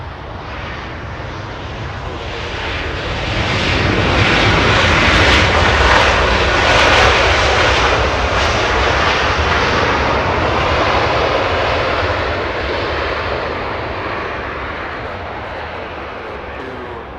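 An Airbus A319 jet at Los Angeles International Airport roars past, its engine noise swelling to a loud broad peak mid-pass and then easing off slowly, with no voices.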